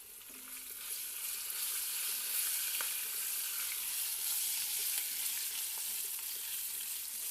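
Curry leaves and green chillies sizzle steadily in hot oil, with a constant broad hiss and a few soft scrapes of stirring, close and fairly quiet throughout.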